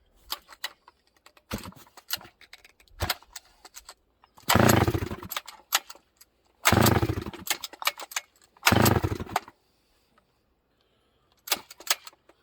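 Sachs Dolmar 153 chainsaw yanked by drop starting: several short rattling pull bursts, then three loud sputtering one-second catches that die away each time, with quiet gaps between, close and alone.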